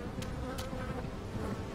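Flies buzzing steadily around dead bodies in a video game, a dense, continuous insect drone that holds at the same loudness throughout with no voices.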